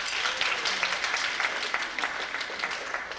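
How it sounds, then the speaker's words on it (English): Applause from a banquet audience at a 1995 Southwest DeKalb track banquet, a steady wash of many hands clapping at moderate volume throughout, with no speech over it. "That deserves a round of applause."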